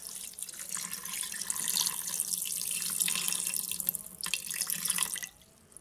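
Water from a tap pours into a pot to cover meat for cooking, a steady, close splashing rush that swells and then cuts off near the end, with no voices.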